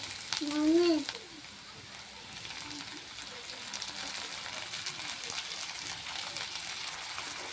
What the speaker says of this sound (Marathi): आता आपण यामध्ये टोमॅटो घालूया